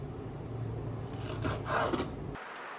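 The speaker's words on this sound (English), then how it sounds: "just kind of take your knife and cut that down" A knife slices through peppers for a smoked Spam dish, giving soft, low scraping and cutting strokes that swell briefly toward the end, quiet and close with no talk.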